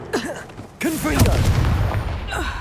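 A Confringo blasting spell in Hogwarts Legacy bursts out as one loud, sustained explosive boom after brief voice-like sounds, its rumble lingering for about two seconds.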